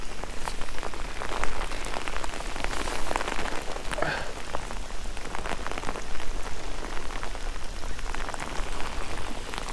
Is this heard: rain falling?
yes